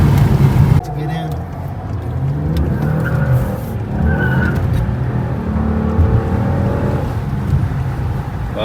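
A custom-tuned 2017 Lincoln MKZ accelerating hard in traffic, heard from inside: a loud, sustained engine roar rising in pitch with brief tire noise, and someone talking over it.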